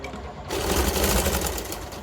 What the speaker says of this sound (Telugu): ఇది ఇంకో షేప్ పట్టి కుడుతున్నారు.